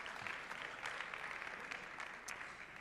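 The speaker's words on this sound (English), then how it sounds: "Big round of applause then for the 10 goals." Faint, steady applause from an audience at a beach soccer awards event, a soft continuous wash of clapping lasting a few seconds with no voices on top.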